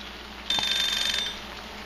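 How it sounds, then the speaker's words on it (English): A kitchen timer beeps with a bright, steady electronic tone for under a second amid quiet kitchen background while fiddleheads are being processed. "Timer just went."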